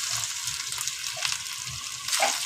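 Ginger and turmeric sizzle in hot oil in a pan, a steady close frying hiss with light stirring scrapes.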